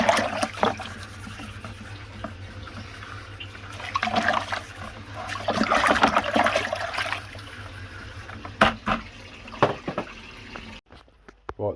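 Blackberries washed and scrubbed under running water for homemade blackberry and raspberry wine, a close stream of water splashing with bursts of rubbing and rinsing that swell and fade, ending abruptly.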